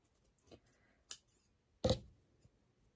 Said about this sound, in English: Now I can cut these out.